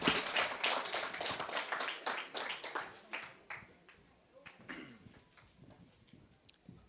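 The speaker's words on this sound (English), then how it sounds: "with a round of applause, welcome our speaker" Audience applause welcoming a speaker at a fintech fest masterclass, loud, dense clapping at first that thins into scattered individual claps over several seconds before fading out.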